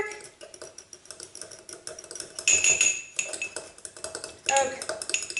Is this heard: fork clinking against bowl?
yes